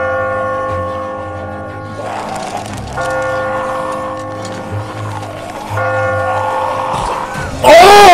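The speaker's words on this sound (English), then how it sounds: "That bell is loud as shit!" A loud bell clangs repeatedly during a tense scene in The Walking Dead video game, its ringing tones sustained over music and game sounds, swelling louder near the end.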